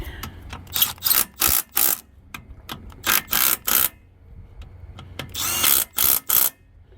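On an MTD snow thrower, a power tool zaps bolts in with a series of short, loud whirring bursts separated by brief pauses, the bursts grouped in quick runs, close to the listener.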